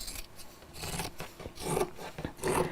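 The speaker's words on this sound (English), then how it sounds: "I don't have my rotary cutter down here, so I'll use scissors" Scissors cut along a straight drawn line, likely through fabric, giving a steady run of close, crisp rasping snips with no talk over them.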